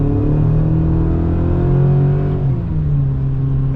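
A 2026 Chevrolet Silverado RST TurboMax pickup with a four-cylinder turbo engine accelerating, giving a loud, close, steady droning hum that holds its pitch before easing slightly near the end.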